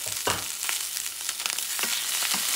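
Olives sauteing in a hot pan for a Puerto Rican rice dish with pork feet, giving a soft, steady sizzle with scattered pops and crackles close by, no voices over it.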